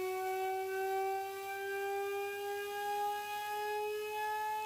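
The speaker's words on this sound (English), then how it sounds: "Here's an example of what Cagnier de la Tour siren sounded like." A Cagniard de la Tour siren gives a steady, faint, pure whining tone with clear overtones, its pitch creeping slowly upward throughout.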